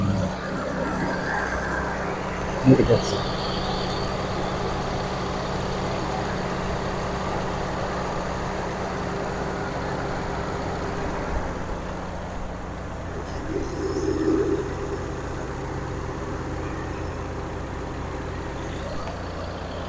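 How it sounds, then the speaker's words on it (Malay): A car engine idles with a smooth, low, even hum close by, while someone speaks briefly and a few small clicks sound. "Enjin pun bunyi lembut."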